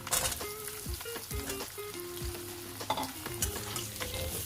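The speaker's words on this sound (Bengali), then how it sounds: "আলুগুলো দিয়ে নাড়াচাড়া করতে হবে।" Potatoes stirred in hot oil tempered with dried red chilli, bay leaf and five-spice, with a bright crackling sizzle, scraping spatula strokes and sudden spits and pops.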